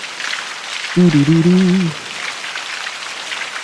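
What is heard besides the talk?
rain sounds played from Alexa Ambient Sounds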